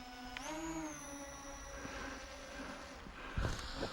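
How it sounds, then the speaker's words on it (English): An Ameta S20 Lite beginner drone spins up its rotors and lifts off, giving a close, steady high buzzing whine that climbs in pitch, with a couple of handling knocks near the end. "Take the drone up."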